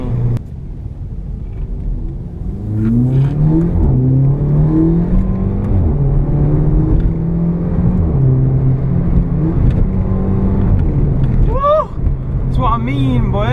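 A Volkswagen Polo GTI engine with a DSG gearbox revs hard and climbs through gears, loud and close, with tire and road rumble and a few whooping voices near the end.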